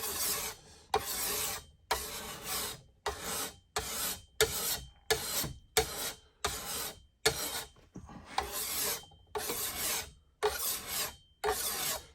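A hand file rasps along the fresh, coated edge of a new machete in a dozen or so steady back-and-forth strokes, each a loud, close scrape broken by brief pauses, with no talking.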